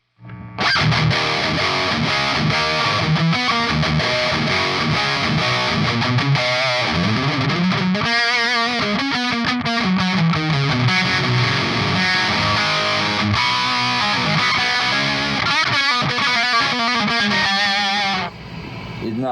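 Electric guitar played through a Yamaha T100 amp with a distorted, bright, spiky treble tone, sustained chords and riffs played loud and continuous, ending abruptly.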